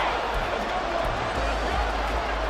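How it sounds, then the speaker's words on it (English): A stadium crowd in Madden 24 gives a continuous loud roar through a Lions versus Saints football game, dense and steady with faint voices mixed in. "This crowd doing all they can."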